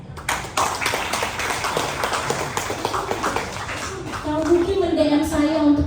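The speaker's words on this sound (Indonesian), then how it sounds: "Tepuk tangan untuk Kang Buki." Audience claps for Kang Buki at a public declaration event in Bandung, scattered hand claps from a crowd that fade as voices and a tonal sound take over.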